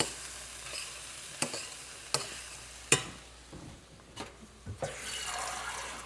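A spatula scrapes and clacks through vegetable curry cooking in a pan with spices, several sharp knocks spaced over a few seconds above a faint sizzle, close and fairly quiet, with no voices.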